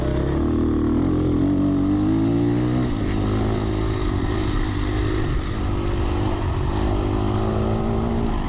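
A dirt bike engine drones loudly and continuously during a trail race at Chestnut Corner, a round of the MEHSA series, its pitch rising and falling slightly as the rider works through the course.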